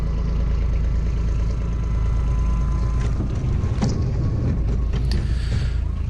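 A Kubota BX25 tractor engine runs at a steady, low rumbling idle close by, with a few faint clanks over the top.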